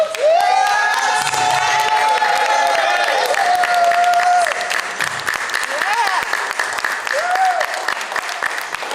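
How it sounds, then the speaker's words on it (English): An audience applauds children and youth at a Delaware youth summit, steady clapping and some cheering sustained throughout while a voice speaks over it and sung or called tones rise above the crowd. "I want you to give these children and youth a wonderful round of applause."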